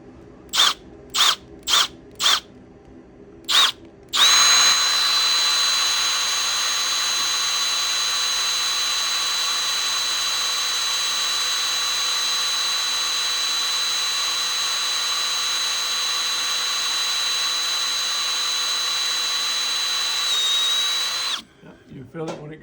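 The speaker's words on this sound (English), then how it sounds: "Those drill bits are the sharpest ones I've found that work really good for these." A power drill bores into a linotype crucible: several short bursts, then one long, steady, loud high-pitched whine lasting most of the clip before winding down, with sharp drill bits cutting through the metal.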